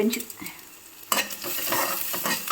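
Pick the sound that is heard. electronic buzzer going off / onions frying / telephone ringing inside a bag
onions frying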